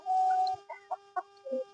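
Laying hens on a chicken farm cluck in a few short, close calls, with one longer drawn-out note first and then a quick run of brief clucks.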